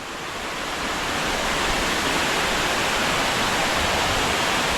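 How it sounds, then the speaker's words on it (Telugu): Waterfall deep in a dense forest near a tribal village in Araku, a steady full-spectrum roar of falling water that swells slightly at the start and then holds loud and constant, with no voices. "ఒక అద్భుతమైన వాటర్ ఫాల్ అయితే చూపిస్తాను చూడండి"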